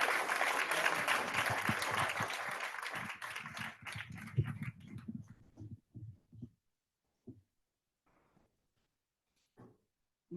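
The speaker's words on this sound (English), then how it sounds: "Let's give him a huge round of applause" An audience at a meeting breaks into loud, sustained applause that thins out into scattered claps and fades, with a few isolated claps trailing at the end.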